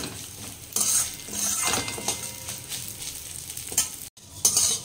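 Cut vermicelli (semai) sizzles in a kadai while a utensil stirs and scrapes it, with clinks of metal against the pan in irregular bursts, close and clear with no talk.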